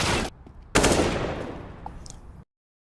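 Gunfire in CS:GO during an ESL Premiership Spring 2020 esports match: a brief loud burst, a short pause, then a second sustained burst of rapid fire that fades out. No talking.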